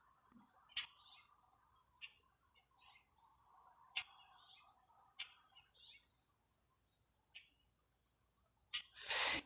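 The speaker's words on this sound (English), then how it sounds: "Can you hear the sound of the birds?" Birds chirp outdoors near a road during a truck convoy, a few sharp isolated calls scattered over a faint background hum, with one louder burst of sound at the end.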